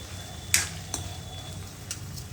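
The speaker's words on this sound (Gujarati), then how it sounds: "તો સૂકી ડુંગળી આમાં નાખી દેવાની. આ બધું બરાબર મિક્સ કરી દેવાનું." Dry onion stirred into a Manchurian gravy in a pan, heard as a low simmering hiss with a few light spoon knocks against the pan, fairly quiet and without talk.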